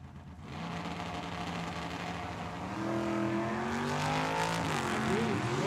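Drag racing cars at Tucson Dragway, a Mopar in the left lane, roar steadily at the line, engines rising in pitch as they launch; loud, sustained engine noise with no talk.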